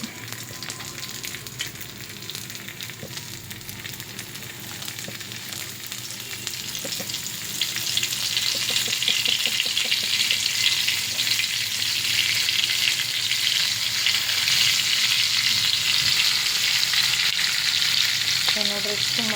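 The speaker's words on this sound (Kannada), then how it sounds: "ಒಂದೊಂದೊಂದೊಂದು ರವಾಗ ಹಚ್ಚಿ ಎಣ್ಣೆದಾಗ ಬಿಡಬೇಕು." Rava-coated pieces frying in hot oil, a steady close sizzle that swells louder partway through and keeps on without talk.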